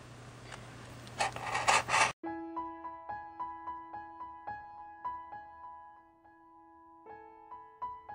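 A burst of harsh rasping cuts through material for about two seconds, then stops abruptly, leaving a string of ringing metallic plinks in quiet.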